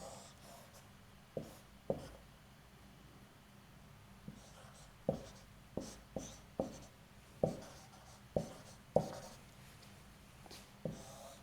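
Chalk writing an equation on a board in a physics lecture hall: sparse, sharp taps and short scratchy strokes in irregular bursts, faint against a quiet room hum, with no talk.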